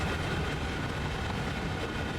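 A train rumbles along steadily in Train Sim World 2 on the Sand Patch Grade, a dense, continuous low roar of wheels and rail noise that stays loud and even throughout.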